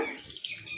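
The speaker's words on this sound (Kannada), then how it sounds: "ಸ್ವಲ್ಪ ನೀರು ಹಾಕೋಣ." A short splash of water being poured into a mixer grinder jar, close and fairly soft, lasting under a second.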